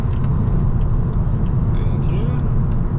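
A 2010 BMW 330i overtaking a lorry on the road, heard from inside the cabin as a loud, steady low rumble of engine and tyre noise that runs unbroken throughout.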